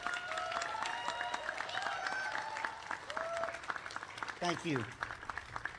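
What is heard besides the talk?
audience applause at a band show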